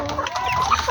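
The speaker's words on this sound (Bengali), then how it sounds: "এই হলো আমার পাহাড়ি মুরগিগুলো, আর এই হলো পাহাড়ি মুরগির বাচ্চাগুলো" Hill country chickens and their chicks clucking nearby, a steady mix of short clucks and peeps with a few higher calls, all without speech.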